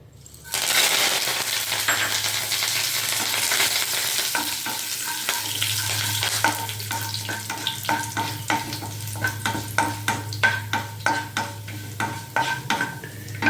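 Urad dal, mustard seeds, cumin and curry leaves frying in about three spoons of oil, a close steady sizzle that turns into rapid crackling pops, with a spoon scraping and stirring the pan and no talk.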